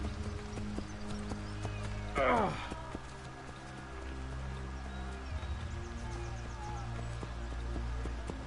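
Horse hooves clip-clop at a steady trot in the Assassin's Creed Brotherhood video game, a continuous rhythmic patter over a droning game score, with a horse's whinny rising briefly near the middle.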